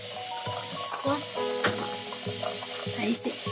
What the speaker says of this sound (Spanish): aquí nomás voy a refreír en este ladito que tiene candela